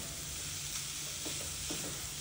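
Coconut and jaggery modak filling stirred in a pan as the jaggery melts, giving a steady soft scraping and faint sizzle with short spoon strokes over a constant background hum.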